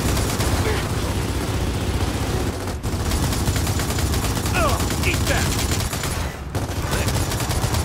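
Dense, continuous rapid turret gunfire in Gears of War 4 roars throughout, with brief gaps around the third and sixth seconds, like heavy automatic fire.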